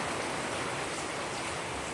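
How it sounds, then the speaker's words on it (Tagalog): Light rain falling on leaves outdoors, a continuous even hiss of fine drops with no distinct individual hits, steady and moderately close throughout. "Konti man lang ulan."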